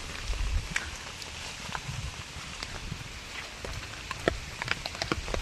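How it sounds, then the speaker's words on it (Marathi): Heavy rain falling in a hillside village, a dense steady patter of drops with scattered sharper splashes and taps close by. "गाईज लय मस्तपैकी जोरदार पाऊस पडतोय."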